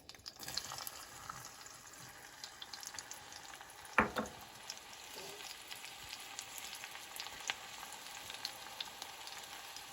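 Onions and garlic sauté in a pan for a scallop dish, a soft steady sizzle with light stirring and one sharper clatter near the middle, with no talking.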